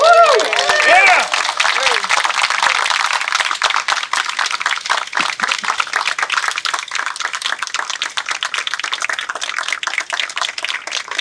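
Audience applause at a building dedication ceremony, opening with whoops and cheers, then a long run of close, sharp individual claps that thins out gradually while staying fairly loud.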